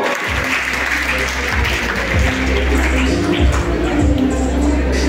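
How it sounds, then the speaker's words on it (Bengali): Audience applause at an award ceremony for an energy olympiad, a dense, steady wash of clapping across the hall that holds at an even level throughout, with a low hum underneath. "আমরা একটা জোরে করতালি দিব।"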